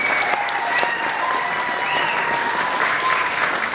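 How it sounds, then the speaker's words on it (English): A school audience at a Christmas concert gives a student band a steady round of applause, dense and loud, with scattered cheers and shrill whoops riding over the clapping for the whole stretch. "Clap for all of them before I tell you the name."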